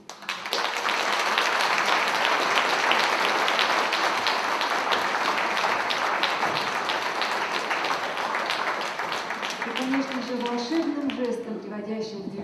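Concert audience applauding a Russian philharmonic and folk instrument ensemble, dense steady clapping filling the hall for about ten seconds before fading as instruments begin to play.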